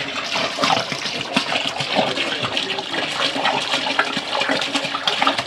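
A heavy, continuous gush of water pours steadily into a large biryani cooking pot, about 70 liters from cans, loud and close throughout.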